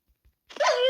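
A dog barks in a video game. Two faint soft thumps come first, then one short, fairly loud synthetic bark-like yelp stands alone.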